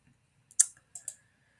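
Computer mouse clicks in a quiet room, a sharp click followed shortly by a quicker pair of clicks, close and crisp with near silence around them.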